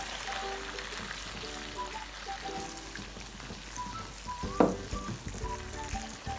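Onion and yogurt paste with spices fries for chicken qeema, a steady close sizzle in the pan with a sharp utensil clatter midway and occasional soft scraping.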